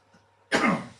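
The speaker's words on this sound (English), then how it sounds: "Sorry about the cough." A single harsh cough bursts out after a moment of near silence, close and loud, then trails off.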